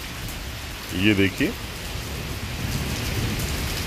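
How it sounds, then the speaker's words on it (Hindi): Torrential rain in Islamabad hisses in a dense, steady wash close by, while someone speaks briefly over the downpour. "बारिश में भीगने का अपना ही मज़ा है"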